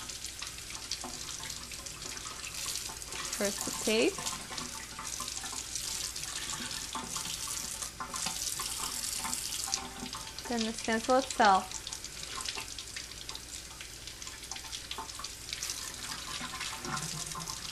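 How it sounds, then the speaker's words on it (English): Tap water runs steadily over a glass-etching stencil being rinsed at a sink, a continuous broadband wash with occasional splashes as the flow is disturbed, while a person talks over it. "washing my stencil under running water, the tap water"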